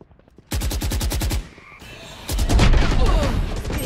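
Rapid automatic gunfire from Valorant, a burst of close, loud shots followed by a pause and another heavier stretch of firing, with a voice briefly audible.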